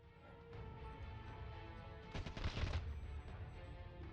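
A single burst of game gunfire from the video game Warsaw Rising cracks out near the end, a short loud cluster of shots over a steady bed of in-game ambience, with no voice over it.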